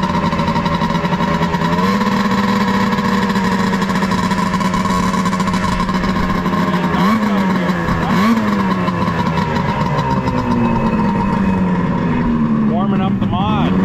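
Vintage 2004 Ski-Doo REV MOD snowmobile motor warming up at a hillcross event, a loud steady idle that rises and falls in pitch with a few blips near the end, with people talking over it.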